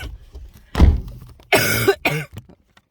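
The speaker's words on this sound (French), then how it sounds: "C'est pas agréable de regarder quelqu'un tousser." Someone coughs in a home mid-move, a heavy cough near one second and then two harsh bursts around 1.5 and 2 seconds, loud and close with no talk.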